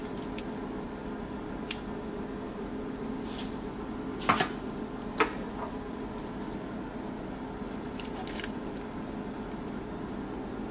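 Beans tumble into a crockpot of healthy chili with soft scattered rattles and a few sharper clatters and thuds near the middle, over a constant low kitchen hum.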